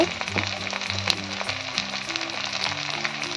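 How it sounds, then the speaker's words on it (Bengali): Ginger-garlic paste and four green chillies sauté in a pan, a loud, continuous close sizzle with occasional stirring scrapes and nobody talking. "দু চামচ আদা রসুন বাটা দিয়ে দিয়েছি সঙ্গে চারটে কাঁচা লঙ্কা দেখে নিয়েছিলাম দিয়ে দিয়ে ভালো করে আমি কষিয়ে নেব মশলাটা"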